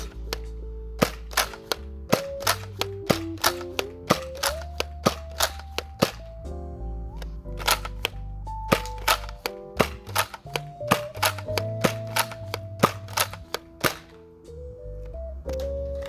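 A Nerf N-Series Agility blaster fires a long series of sharp, snappy shots at an irregular rhythm, each crack standing out over a changing background tone.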